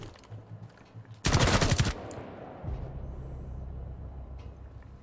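A short, loud burst of automatic gunfire in the video game Rainbow Six Siege, a rapid string of shots lasting under a second. A quieter voice speaks before and after it.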